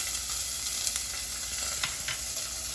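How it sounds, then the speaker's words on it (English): Chopped green chili pepper sizzles in a hot pan, giving a steady, quiet frying hiss with a few faint pops and no voices. "we're just going to saute that until lightly brown"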